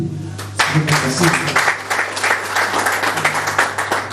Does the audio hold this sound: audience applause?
yes